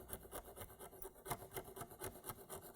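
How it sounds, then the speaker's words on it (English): Needle file rasping along the side and into the angles of a model railway wagon, a steady back-and-forth scraping with quick regular strokes, close and quiet, with no talking. "I'm just going to tidy it up with a little needle file down the side here, working it into the angles"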